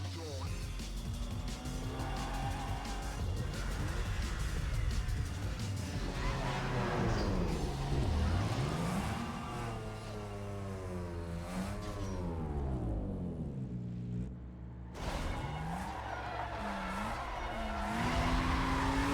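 A Porsche and an Audi drag racing in Need for Speed Most Wanted (2005) produce continuous roaring engines that rise and fall through gear shifts, with tire squeals, while players talk over the game audio.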